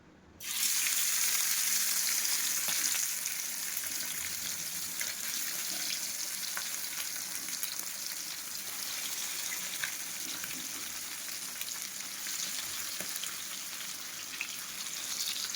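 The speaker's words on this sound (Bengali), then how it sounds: "এই মাছগুলো ম্যারিনেশন করে রেখেছি ভাজবো বলে" Marinated fish frying in hot oil, a steady loud sizzle and crackle that starts abruptly and holds for the whole stretch, with occasional pops.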